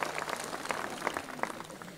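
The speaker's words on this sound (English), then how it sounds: "Of course, it's time to clap." Graduation audience at Salem Academy clapping, steady moderate applause from many hands heard at some distance, fairly faint throughout.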